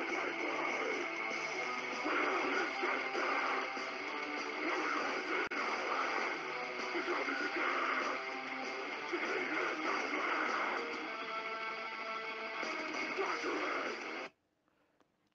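Recorded grindcore plays loud and dense, a wall of distorted guitars, drums and harsh vocals that runs steadily before cutting off abruptly near the end.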